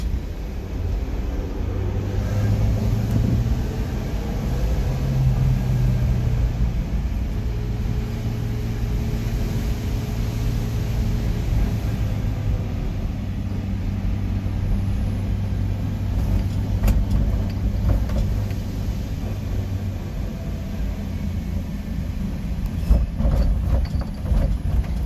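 A Subaru Sambar hicab kei truck drives in third gear through a crowded area, its small engine humming steadily with low road rumble and tyre noise throughout, close and continuous with no talk.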